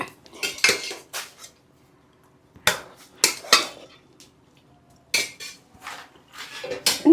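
Plates, cutlery and pots clatter and clink in a home kitchen in bursts of handling, with quiet pauses between the clusters of sharp metallic knocks.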